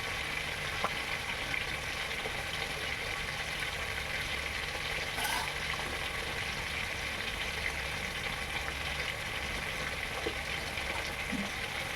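Already fried fish is stirred into a simmering gravy, giving a soft, continuous sizzle and bubbling hiss at low volume, with a few faint scrapes of stirring.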